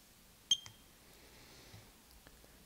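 A single sharp electronic key-press beep from an Icon 1/2-inch digital torque wrench with a faint click after it, then near silence with a few soft taps.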